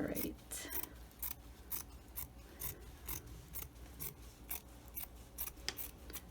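Scissors trimming fabric for a child-size face mask, a series of quiet close snips at an uneven rhythm, faint and alone.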